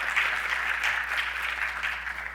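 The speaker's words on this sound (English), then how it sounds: "a round of applause to all the inductees here" Audience applause at an honors society induction ceremony and annual lecture, a steady wash of many hands clapping at moderate loudness throughout, with no talk over it.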